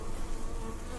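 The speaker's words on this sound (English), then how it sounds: "The bees are then shaken from the queenless hive onto Mr. Loye." Dense swarm of honeybees buzzing steadily as they are shaken from a queenless hive onto a man to form a bee beard; continuous loud drone with no talking.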